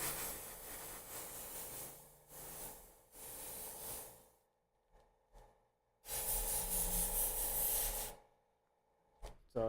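Airbrush overspray misting pink paint onto the gums of a werewolf or vampire monster model, heard as soft steady hissing bursts, two separated by pauses, close and fairly quiet.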